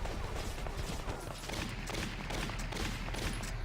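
Dense, continuous gunfire in the video game Valkyria Chronicles, overlapping crackling shots and rattling bursts at a steady, loud level with no pause and no clear speech.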